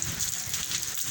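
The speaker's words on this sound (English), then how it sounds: "Now it's raining New Year's style." Steady rain falls in Mazatlan, a constant close hiss of drops hitting surfaces with no other sounds.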